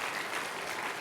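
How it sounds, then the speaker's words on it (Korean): Steady, dense applause from a church congregation during an Easter worship service, a soft, even wash of many hands clapping together at a distance, with no voices rising above it. "자, 박수 쳐주세요."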